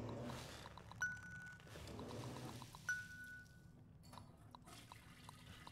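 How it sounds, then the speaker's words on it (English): A toilet flushing in Aperture Desk Job, a low gurgling pour and trickle of water with two brief tonal beeps over it, fairly quiet and without talk. "All right, flushing a toilet."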